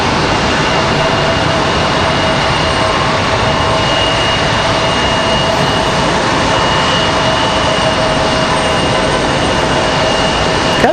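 Steady, loud roar of a passenger jet airliner at Raleigh-Durham International Airport, a broad engine rumble that holds constant throughout with no pause or voices.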